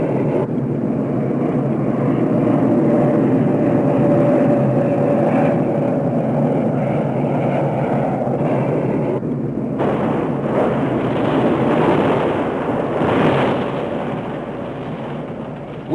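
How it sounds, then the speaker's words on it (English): B-52 bombers striking near Con Thien in 1967 give a sustained, heavy low roar of aircraft and rumbling explosions, loud and continuous for most of the stretch, easing slightly toward the end. "the B-52 bombers striking from nearby Thailand. They pound the zone day in, day out with tons of explosives."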